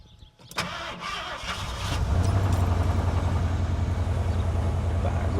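Ford Bronco engine cranks briefly and catches after a fuel filter replacement, settling into a steady, loud, close idle rumble that holds to the end.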